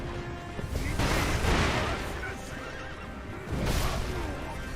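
A horse in the video game Sekiro: Shadows Die Twice gives two loud neighs over constant game noise, one near the start and a second toward the end.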